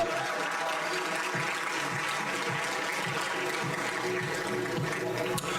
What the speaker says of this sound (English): can we have a huge round of applause for Linkfluence 2023?